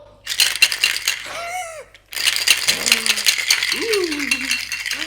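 A cocktail shaker shaken hard in a bar, a loud continuous metallic rattle of ice with a brief pause midway, while voices and tonal vocal sounds break through over the clatter.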